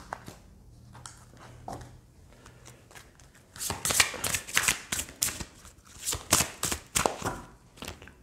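Tarot oracle cards shuffled by hand, quiet riffling at first, then a dense run of crisp, close flicks and snaps that rise and fall in uneven bursts.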